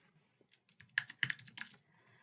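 Keys on a computer keyboard are tapped in a short quick burst of clicks while a custom label is entered, quiet and close.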